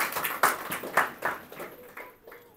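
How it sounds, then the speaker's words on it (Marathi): Church congregation clapping hands during a sermon: a series of sharp, rhythmic claps, roughly two per second, moderately close and thinning out toward the end. "टाळ्या वाजवायच्या,"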